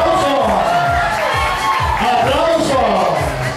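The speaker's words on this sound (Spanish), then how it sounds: "¡Aplauso!" An audience at a karaoke show cheers and shouts in a loud, bustling crowd noise, with overlapping voices and a strong sweeping tone running through it.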